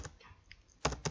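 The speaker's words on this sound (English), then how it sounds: "I'm going to press enter," Computer keyboard keys are tapped, a couple of light clicks early on, then a louder double strike near the end as the enter key is pressed, close and dry with no talk.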